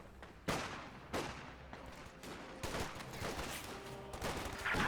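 Bursts of MG42 machine gun fire in Company of Heroes 2 ring out loudly in separate volleys spread across several seconds, with battle noise between them and no talking.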